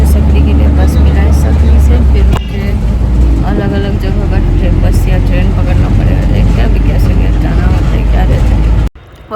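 Ride aboard a bus on a trip through Madhubani, Bihar, with a constant heavy engine drone and road rumble, rattles and bumps, and voices talking inside the cabin.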